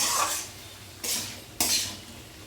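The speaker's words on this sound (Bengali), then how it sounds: "পোস্তটা দিয়েও একটু নাড়াচাড়া করে নেব যতক্ষণ না পোস্তর কাঁচা গন্ধটা চলে যাচ্ছে" Ground poppy seed paste is stirred in a frying pan with a utensil, three close, scraping sweeps of metal against the pan over a soft sizzle, with no talking.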